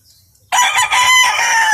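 A rooster crows loudly and close by, one sustained call that bursts in after a brief quiet moment.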